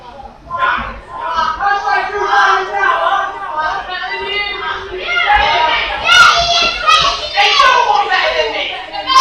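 A wrestling crowd at a CCW Rampage show reacts loudly to the wrestler Silver, with a dense mix of shouting and jeering voices, many of them children, and occasional claps that rise toward the end.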